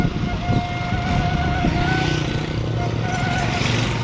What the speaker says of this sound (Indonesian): Nono menjual sayur keliling menggunakan sepeda motor